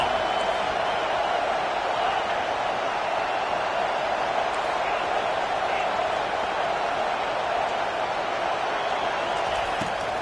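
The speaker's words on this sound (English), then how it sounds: "Decibels rising as the crowd gets behind this defense on third down." A stadium crowd in a college football video game, Utah vs USC, roars on third down: a steady, loud, dense wash of cheering that holds without a break for about ten seconds.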